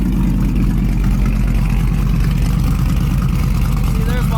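A muscle truck engine idles through open exhaust cutouts with its bumper exhaust bypassed, a loud, steady, close rumble with a faint whistle riding on top and no break in the drone.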